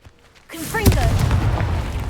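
Confringo fire spell cast in the video game Hogwarts Legacy, a sudden booming blast that bursts in at about half a second and rolls on as a loud, sustained crackling rumble, with brief whooshing magic sweeps.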